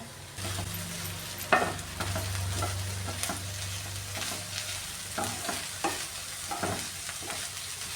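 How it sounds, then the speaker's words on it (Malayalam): Ivy gourd and carrot stir-fry for mezhukkupuratti being stirred in a pan, with a steady low sizzle beneath repeated scraping strokes of a spoon at an irregular rhythm, close and moderately loud, no talking. "ഇനി ഇത് തുറന്നു നോക്കി ഒന്നുകൂടെ ഇളക്കി കൊടുക്കാമേ"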